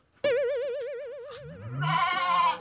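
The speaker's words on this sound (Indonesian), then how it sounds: "Tas tak pakani kok mbak-mbek ae." Goats bleat close by: one long, wavering, quavering cry followed by a second, harsher overlapping bleat, loud against an otherwise quiet background.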